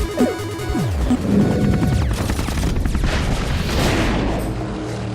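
Gunfire and explosions in the video game Mercenaries 2: dense overlapping bursts of shots and booms, loud and close, running continuously as a chaotic barrage with no voices.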